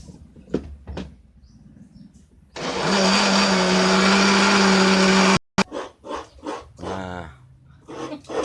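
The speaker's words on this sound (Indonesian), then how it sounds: "Blender lagi." A kitchen blender whirs loudly and steadily for about three seconds, then cuts off abruptly; quieter sounds come before and after. It is blending ingredients with a little water for Acehnese kuah plik.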